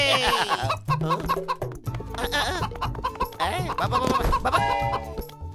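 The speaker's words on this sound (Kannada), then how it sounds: "ಮೋಟು, ಕೋಳಿ ಹಿಡಿಯೋದಕ್ಕೆ ಏನಾದ್ರು ಒಂದು ಐಡಿಯಾ ಕೊಡು." Cartoon chickens cluck in a Motu Patlu episode, their repeated squawky calls mixed into busy background music and effects throughout.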